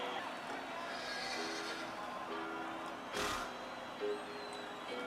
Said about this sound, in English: They have a horse neighing and making all these sounds.